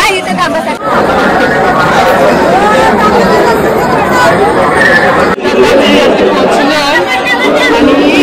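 Dense crowd chatter from many voices at Jejuri temple, a steady loud hubbub of overlapping talk throughout with a brief dip near the start and another around the middle.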